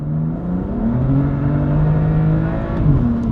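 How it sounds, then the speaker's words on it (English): BMW M4 CS engine revving under throttle in second gear on a wet road, heard from inside the car as a loud, continuous, rising drone with shifting pitch. "So let's just knock it down slowly into second, and I'll squeeze the throttle"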